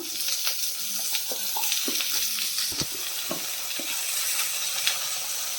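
Chicken stew ingredients sauté in a hot pan with salt, giving a steady, close sizzle with scattered scraping and stirring clicks throughout.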